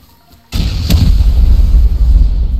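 Rocket launcher fired during a raid in the survival game Rust: a sudden loud blast after near silence, followed by a sustained heavy rumbling boom.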